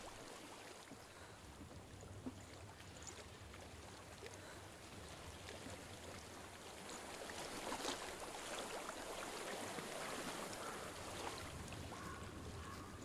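Water flows and rushes steadily in the video game Hellblade: Senua's Sacrifice, a soft continuous wash that swells slightly louder partway through, with no voices.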